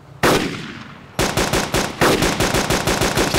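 Gunshots fired at an enemy in DayZ: one sharp loud shot, a pause, then a rapid string of about a dozen close, evenly spaced shots.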